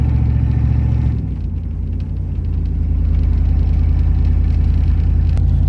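A four-wheel-drive truck in 4WD rolls steadily along an unplowed, drifting snowy dirt road, its low engine rumble and road drone continuous and close, easing slightly after the first second.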